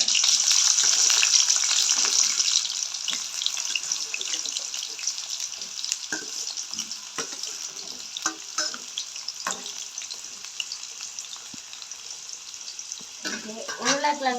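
Potatoes frying in oil for a Jaffna potato curry give off a loud, steady sizzle with occasional stirring clatter, fading slightly over time, and a brief voice near the end.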